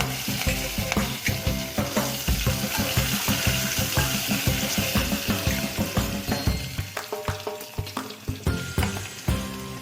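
Curry leaves crackle and sizzle in hot oil alongside cumin, bay leaf and cinnamon, a loud, dense spitting with rapid irregular pops and stirring clatter running throughout.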